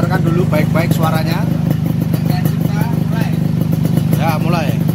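A Yamaha RX King motorcycle with a BKJ standard racing exhaust idles and revs with a throaty, rumbling note, loud and close, while a person talks over it.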